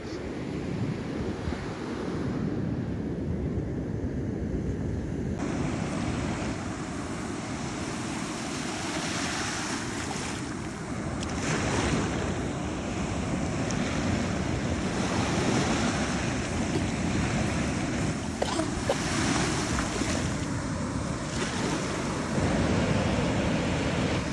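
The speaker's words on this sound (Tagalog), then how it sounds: "Black sand siya. Malakas yung alon." Strong ocean surf breaks on a black sand beach in Zambales, Philippines, a continuous loud roar of crashing waves with wind buffeting the microphone and no voices.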